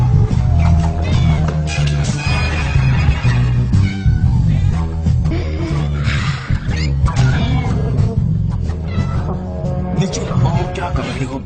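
A cat meows several times amid busy background sound and talking, in a dramatic scene.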